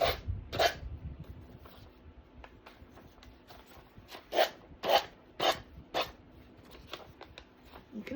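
Abrasive paper rasps against the surface of a tobacco basket decorated with paper in short, separate rough strokes. The strokes repeat about every half second and come out close and fairly loud against a quiet background.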